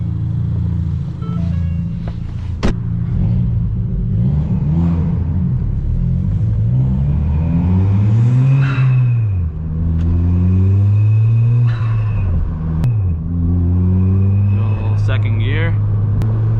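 A widebody big-turbo Ford Fiesta ST engine pulls hard through the gears, a rising, wavering rumble that surges and falls between shifts, steady and close throughout with someone talking over it.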